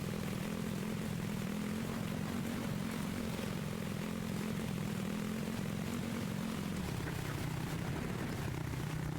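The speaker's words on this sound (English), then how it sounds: "Hop back on the ATV." In the video game The Infected, an ATV engine drones steadily as it is ridden, a continuous buzzing hum that holds level throughout and dips slightly in pitch near the end, with no speech.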